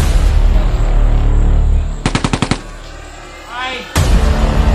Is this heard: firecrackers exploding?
yes